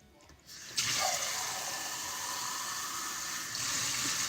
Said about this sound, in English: Now I'm going to add a little water.